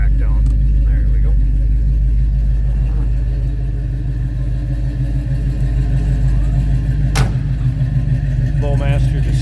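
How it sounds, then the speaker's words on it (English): A 1969 Pontiac Firebird coupe idles with its Flowmaster exhaust, giving a steady, loud, low muscle-car rumble, with a brief rev and faint voices in the background. "Flowmaster distinct sound to it. Nice muscle car rumble."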